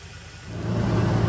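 A car drives through a palm oil plantation in Borneo, its engine hum swelling louder and rising as it accelerates, close and steady with no voices.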